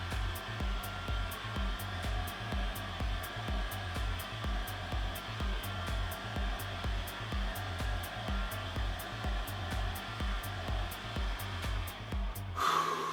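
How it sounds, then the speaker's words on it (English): A heat gun on its lowest setting blows over fabric in a DIY acid-and-heat manipulation experiment, giving a steady, close whirring rush of air with a faint regular pulsing, running continuously. "Really carefully use my heat gun. It's on setting 1, the lowest setting."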